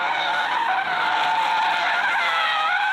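A Genesis G70 Shooting Brake sliding sideways on a wet surface, its tires giving a loud, continuous skidding squeal that wavers in pitch for the whole three seconds.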